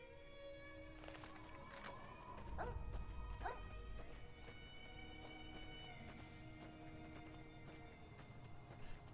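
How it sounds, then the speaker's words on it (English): In the video game Fallout: New Vegas, a dog barks and yips a few times amid game music and ambient noise, fairly faint and partly masked by the background. "Damn dog is in the way."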